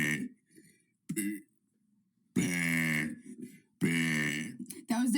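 A person burps several times in a row, short throaty voiced belches separated by brief silences, the later two longer and louder, close to the microphone.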